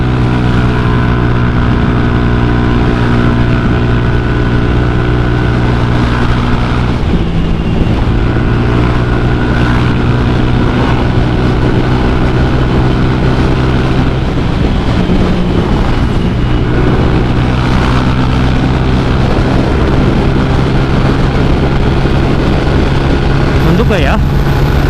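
A motorcycle with a KTC Extreme 325mm shock absorber rides fast on asphalt, its engine droning steadily loud under heavy wind buffeting while a rider talks throughout.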